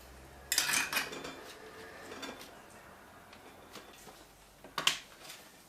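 Glass jars of pickled jalapeños being closed, with a couple of sharp clinking, rattling bursts of lids against glass at the start and again near the end, fairly close, with quiet in between.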